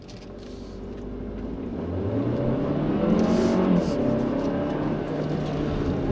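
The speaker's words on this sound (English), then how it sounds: "going around a twisty road here, the Optima does surprisingly well" 2016 Kia Optima LX Turbo driving on a twisty road, its engine droning steadily and rising in pitch as it accelerates through a bend, close and continuous with no talking.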